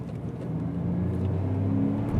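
A Porsche Boxster S 986 convertible with its six-cylinder engine driving along, a steady close engine drone with a rising pitch as it pulls, heard from inside with no talking.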